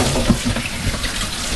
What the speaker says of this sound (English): We're going to get our cold water going.